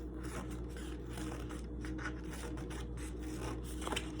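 Scissors cutting along the bottom of a paper strip to make a fringe for a leprechaun craft, producing soft, quiet repeated snipping and rasping close up with no talking.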